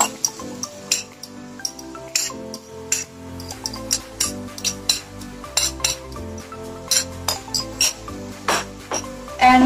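Fried white vermicelli noodles are stirred in a pan, and a utensil clinks and scrapes against the metal in irregular, sharp taps, close and fairly clear with no talking.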